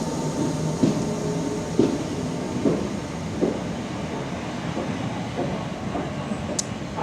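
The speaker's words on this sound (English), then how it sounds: "Just see the Thameslink Class 319 depart." A Thameslink Class 319 electric train pulls out of Ravensbourne station, its wheels giving a steady rumble punctuated by evenly spaced clicks over rail joints, with a brief high squeal near the end.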